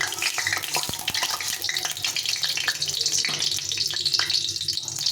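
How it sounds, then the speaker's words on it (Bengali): Potatoes fry in hot oil in a wok, giving a loud, continuous sizzle and crackle close up, with scattered sharp pops and a few scrapes throughout. "আলুটাকে প্রথমে ভেজে নেব।"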